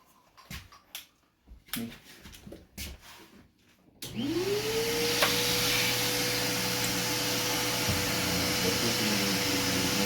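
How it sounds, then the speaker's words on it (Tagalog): Electric vacuum hair clipper used during a medium short tapered haircut, heard after a few seconds of clicks and handling noise as it switches on and rises to a steady loud whir with a droning suction hum. "Using vacuum clipper."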